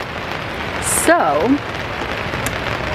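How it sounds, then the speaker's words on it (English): Rain falls outside an Airstream trailer, a steady soft patter that runs throughout while a person briefly speaks in the middle. "It's raining, but it's real nice."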